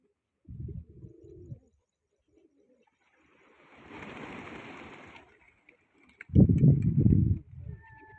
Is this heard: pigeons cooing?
yes